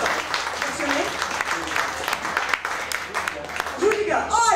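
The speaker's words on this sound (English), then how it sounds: "Give him a round of applause." An audience claps for a volunteer called up on stage, a lively round of applause mixed with voices talking over it, with a brief voice rising near the end.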